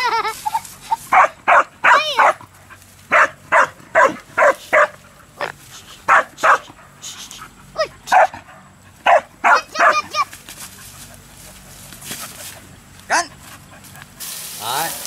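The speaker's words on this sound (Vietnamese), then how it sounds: "đây là màn solo giữa rắn và chó" Dog fighting a snake barks repeatedly in sharp, loud bursts, a rapid series of barks with short pauses and a few barks further apart near the end, over a low background.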